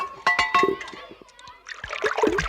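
Water sprinkled onto a dusty rug at home before sweeping, heard as a few quick close splashing patters in short bursts.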